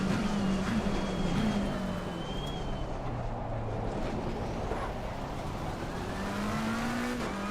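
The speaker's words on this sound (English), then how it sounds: "this Porsche sounds good" A Porsche race car engine in Assetto Corsa Competizione at Spa drones steadily and loud, its pitch sliding down and climbing again through gear changes, with other cars faintly audible around it.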